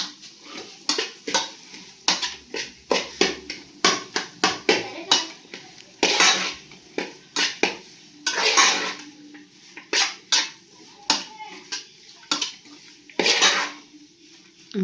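Onions sautéing in a pan with salt added, stirred vigorously: a long run of rhythmic metal spoon scrapes and clanks against the pan over a light sizzle, close and fairly loud.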